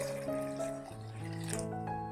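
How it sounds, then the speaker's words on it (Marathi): Water poured into a blender or pot while making Konkani-style solkadhi from coconut milk, a short gentle trickle under a steady tonal hum, close and quiet. "पाणी घालते मी"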